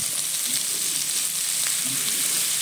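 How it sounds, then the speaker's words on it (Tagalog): Carrots stir-fry in a pan with breast chicken, producing a continuous, even sizzle up close with faint soft knocks from stirring and no talk. "Sunod na natin yung carrots"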